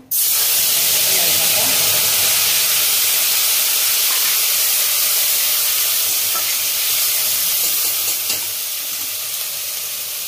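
Oil and turmeric hit a hot cooking pan with a sudden loud sizzle that settles into a steady, bright hiss and keeps going without a break.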